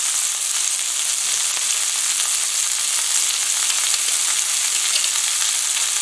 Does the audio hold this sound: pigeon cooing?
no